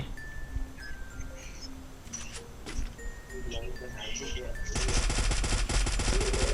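Automatic gunfire in the Free Fire mobile battle royale game, with scattered shots early on building into a loud sustained burst over the last two seconds, under players talking.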